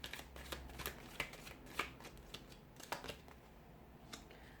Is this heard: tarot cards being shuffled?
yes